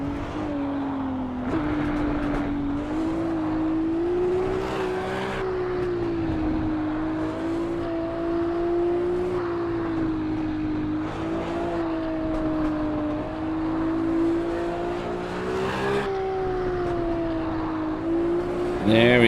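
A race car engine in the video game Assetto Corsa Evo, played on a Fanatec CSL DD steering wheel, drones loudly and steadily, its pitch rising and falling through throttle changes and gear shifts, with someone speaking briefly over it.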